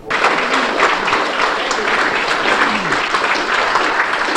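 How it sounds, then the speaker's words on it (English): Audience at a Rutland Railroad convention applauding, dense continuous clapping from a roomful of people, loud and close, filling the whole stretch with a few faint voices mixed in. "We're applauding Laz Skangus."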